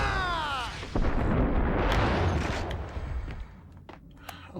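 Grenade explosions in Max Payne: a loud, heavy blast with a deep rumbling roar that sustains for a few seconds, then tails off into scattered debris and smaller pops.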